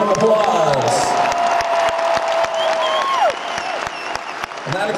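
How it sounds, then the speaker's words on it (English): Concert audience at a New Year's Eve show in Cleveland applauds the crew: dense, loud, sustained clapping and cheering from a large arena crowd, with sustained musical tones underneath and thinning slightly toward the end. "Please give every member of our crew a huge round of applause"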